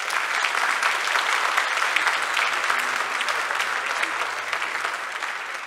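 A church congregation at First Baptist Salisbury gives a sustained round of applause, dense steady clapping from many hands that fills the room evenly throughout.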